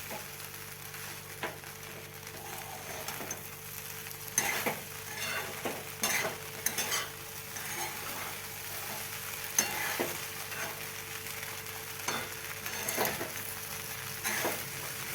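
Poha is stirred and roasted in a hot pan, giving a soft, steady sizzle with intermittent scraping and light spoon knocks, close by and fairly quiet.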